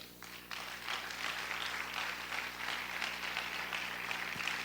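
Congregation applause at a Spanish-language church service, a steady wash of clapping that starts abruptly and holds at moderate level over a low constant hum, without speech.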